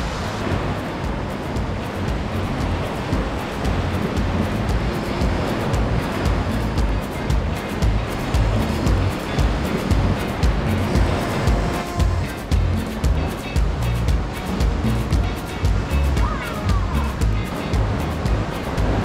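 White waves break steadily against a rocky sea coast below a cliffside walkway, a continuous loud wash of surf with gusts of wind across the microphone and no voices.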